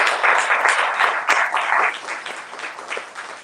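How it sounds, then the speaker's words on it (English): An audience applauds poets at a poetry reading, with dense, steady clapping close by that fades slightly toward the end. "Can we start by please applauding these poets?"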